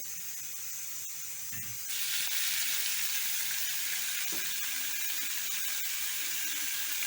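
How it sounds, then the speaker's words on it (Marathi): Fenugreek (methi) leaves sauté in hot oil with a constant hissing sizzle that jumps louder partway through and stays strong, with a few faint clicks of a utensil, close and without talk. "नुसत्या तेलामध्ये चांगली मेथी परतून घ्यायची।"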